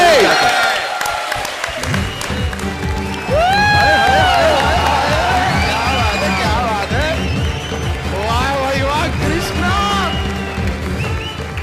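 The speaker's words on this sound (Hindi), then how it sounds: "बजा ताली" A studio audience on a comedy show claps and cheers loudly, the noise swelling after a few seconds, while voices and excited shouts ring out over the applause.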